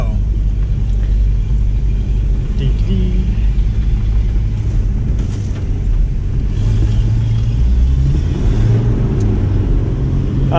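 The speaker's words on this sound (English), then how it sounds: "Oh, this thing spins so bad on these new wheels." A two-wheel-drive Toyota pickup on new wheels struggles up a hill, its engine rumbling steadily as the tires spin for traction. The sound is loud and continuous throughout.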